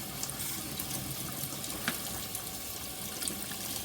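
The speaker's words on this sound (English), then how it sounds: "we're going to wash our strawberries now" Tap water running steadily into a kitchen sink while strawberries are washed, a continuous close hiss and splash with no pauses.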